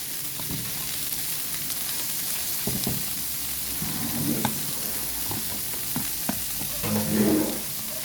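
Bitter gourd (ampalaya) sizzles in margarine in a pan while being stirred, a moderate steady frying hiss with scraping stir sounds and small clatters.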